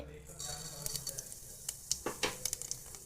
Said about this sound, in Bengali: কড়াইয়ে সর্ষের তেল দিয়ে দিলাম অল্প একটু, তার সাথে কালো জিরে